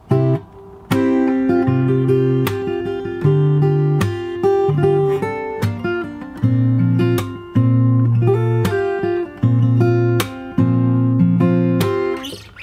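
A fingerstyle acoustic guitar plays the second part of the chorus of a song, alternating bass notes and chords with sharp percussive slaps, close and clear with no talking.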